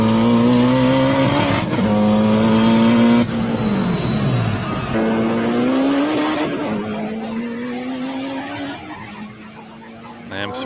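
C8 Corvette race car driving, a loud, close engine note that rises and falls through gear changes, with revs climbing and dropping several times before fading slightly toward the end.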